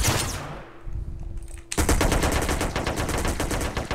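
Rapid bursts of automatic gunfire in the game SA-MP (San Andreas Multiplayer), loud and continuous after a brief quieter stretch with a low steady tone.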